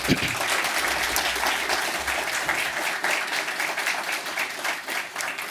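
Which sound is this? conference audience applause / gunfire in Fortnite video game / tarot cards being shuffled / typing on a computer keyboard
conference audience applause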